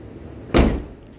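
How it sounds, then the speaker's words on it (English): A Shelby Cobra replica car door shuts with one loud, solid thump and a short ringing decay, heard alone and close by. "Listen to this door close."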